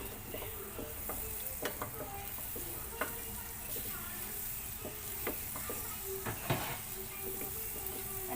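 Butter melting and sizzling in a frying pan before a steak goes in, a faint steady crackle with small ticks and clinks of utensils now and then.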